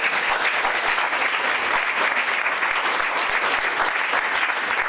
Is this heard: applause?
yes